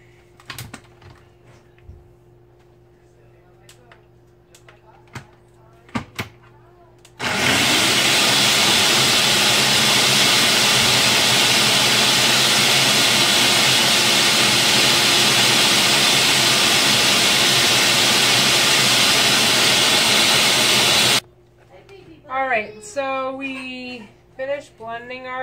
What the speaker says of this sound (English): Blending our drink.